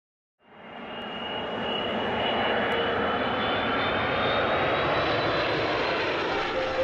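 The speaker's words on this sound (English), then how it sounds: "With a plane taking off or landing every 50 seconds on average" A passenger airplane at Beijing Capital International Airport, its engines swelling into a loud, steady roar with a faint whine riding on top, close by and unbroken for several seconds.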